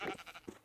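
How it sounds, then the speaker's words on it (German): Sheep bleating in Minecraft, a couple of short close bleats in a brief burst, with no talk over them. "Oh, ein Schaf, Alter."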